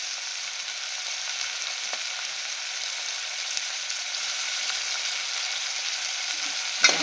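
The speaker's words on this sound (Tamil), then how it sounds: "வெங்காயம், சின்ன வெங்காயம், பச்சை மிளகாய், கருவேப்பிலை, கொத்தமல்லி நல்லா வதங்கணும்னா தக்காளி போடும்." Tomatoes frying with onions, shallots, green chillies, curry leaves and coriander in a pan for a fish curry, giving a steady close sizzle with no talk.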